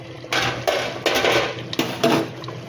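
A metal lid clatters onto a cooking pot of bitter gourd tamarind curry, a cluster of close scraping and clanking knocks of metal on metal with no voices.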